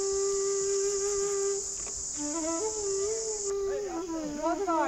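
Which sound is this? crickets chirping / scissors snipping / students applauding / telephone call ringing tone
crickets chirping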